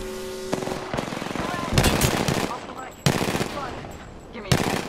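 Rapid automatic gunfire bursts in a sci-fi arena shooter, loud and close, coming in several volleys separated by short pauses, with a voice talking over parts of it.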